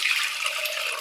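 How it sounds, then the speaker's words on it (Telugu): Water from boiled horse gram (ulavalu) being poured into a clay pot, a steady splashing stream that runs continuously and fairly loud for the whole moment. "ఇప్పుడు ఈ వాటర్ని ఒక మట్టి పాత్రలోకి తీసుకున్నాము"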